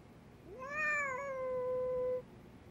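A cat in the video game Lost Judgment gives one clear, drawn-out meow that rises and then holds steady for over a second, alone against a quiet background.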